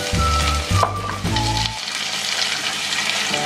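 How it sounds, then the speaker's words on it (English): Onion, garlic and tomato sizzle loudly in a hot pan, with a steady crackling fry and a few stirring clatters early on, continuing alone without talk. "add the onion. I'm going to add the onion and the garlic and the tomato"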